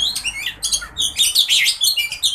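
A kacer, or magpie robin, sings while sunbathing, giving close, bright bursts of quick chirps and whistled phrases with short gaps between them, clear and loud against a quiet background.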